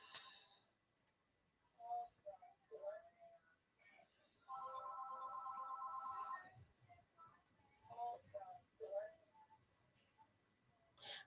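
A house phone rings late at night, a steady electronic ringing tone lasting about two seconds midway, with people talking before and after it.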